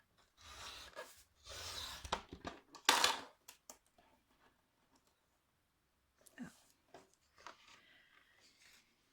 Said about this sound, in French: on va couper un papier de 10 cm sur